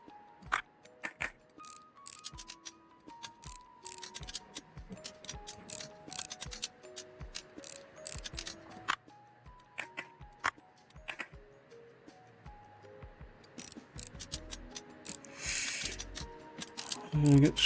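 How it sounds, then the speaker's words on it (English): Screws being backed out while an old tech device is stripped down for restoration, heard as sharp ratcheting clicks and faint whirring turns in irregular bursts close by, with a louder rattle near the end. "get the screws out"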